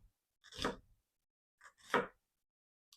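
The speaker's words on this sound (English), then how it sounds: "Then you're going to take a sweet white onion. You're going to thinly slice it." A knife thinly slicing a halved sweet white onion on a cutting board, heard as two separate close, crisp bursts of cutting strokes with a short silence between them.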